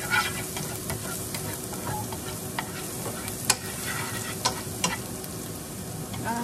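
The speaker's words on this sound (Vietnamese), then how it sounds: "Mình cho tỏi vô. Cho tỏi thơm lên." Garlic frying in a pan for a squid and pineapple stir-fry, giving a steady soft sizzle and crackle with occasional stirring clinks, moderately quiet and close with no talking.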